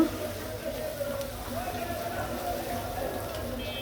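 Fish fries gently in mustard oil over a low flame, a soft, even hiss running beneath a person talking.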